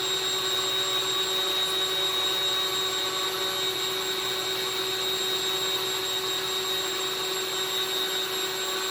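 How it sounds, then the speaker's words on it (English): A steady, loud whine of a vacuum cleaner motor powering a RadioShack desoldering tool, running continuously with no breaks, a constant droning hum throughout. "It's a RadioShack desolder that I'm attaching to a vacuum cleaner."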